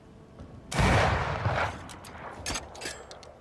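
Gunfire in the video game Banishers: Ghosts of New Eden: one loud, close blast that trails off over about a second, followed by a few sharper, quieter shots.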